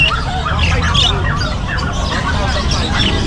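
African lovebirds squawk in dense, overlapping bursts at a busy outdoor pet market, with crowd babble and distant traffic rumbling underneath.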